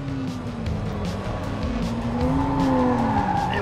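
A supercar brakes hard on the Portimao race track, its tyres squealing in a sustained rising and falling whine over loud engine and road roar, close and without talk.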